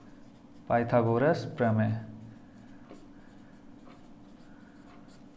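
Pen scratching across paper while a class 10 trigonometry problem is worked out, faint scattered strokes following a short spoken phrase.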